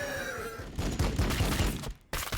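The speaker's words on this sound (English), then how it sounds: "Firing on the enemy." Gunfire rattles in rapid, dense volleys in the sci-fi strategy game Warhammer 40,000: Battlesector, loud and continuous, with layered impacts and a brief cutout near the end.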